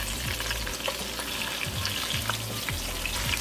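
Oxtail pieces sizzle and fry steadily in a hot pan for a stew, a close, continuous crackle with occasional stirring thumps and scrapes throughout.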